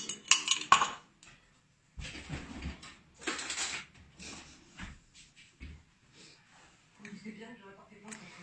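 Metal spoons and cutlery clinking and rattling in a kitchen while another spoon is fetched during cosmetic scrub preparation, a few sharp bursts separated by quiet gaps, with some talk nearby.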